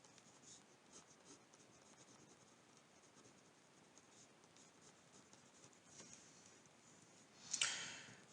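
A chemical structure drawn during a cycloalkane chemistry lecture: soft, steady scratching strokes of a pen or marker across a surface, faint and continuous, ending with a brief louder scrape, no talking.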